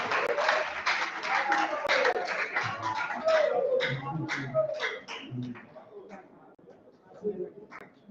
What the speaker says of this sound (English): If you want to clap, clap well.